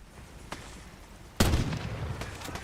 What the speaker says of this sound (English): they'll fucking blow me up with the goddamn nuclear grenades